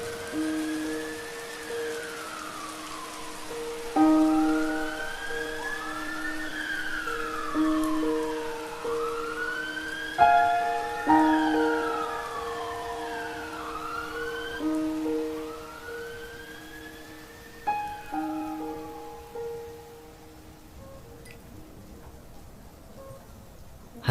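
An ambulance siren wails in rising and falling sweeps over a steady tone, loud at first and gradually fading, with a soft rain-like hiss behind it.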